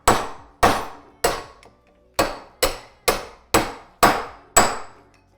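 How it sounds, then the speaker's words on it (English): A hammer strikes a bearing driver to seat a bearing, giving nine sharp metallic blows at a steady rhythm, each ringing briefly and decaying before the next, close and loud with no talking. "We have our bearing driver. We're going to drive our bearing down into where it needs to be seated."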